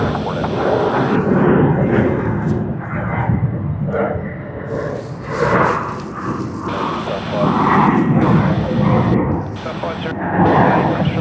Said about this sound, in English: United has begun its takeoff roll.